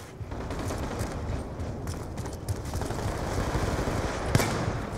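Gunfire in Black Ops 2 on a shotgun-heavy match, a steady rattle of rapid shots and mechanical clatter running throughout, with a sharper report near the end; no speech.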